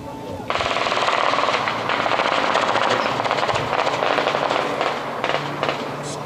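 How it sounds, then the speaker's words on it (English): Heavy machine-gun fire from a quick reaction force clearing an area during a multinational military exercise, loud rapid bursts rattling on continuously for several seconds over a low engine drone. "you can still hear the QRF-2 clearing the area with heavy fire"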